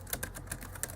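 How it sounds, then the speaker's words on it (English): Rapid, irregular key clicks from typing on the keyboard of a cheap Windows 10 tablet, about half a dozen close, fairly loud taps with no voice. "results here of my nonsense typing"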